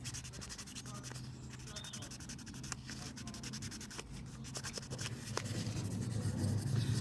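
Jewellery pieces are wet sanded by hand with 5000 grit abrasive, making a soft, continuous rubbing swish. The sound is faint and close, with a low hum underneath that grows slightly toward the end.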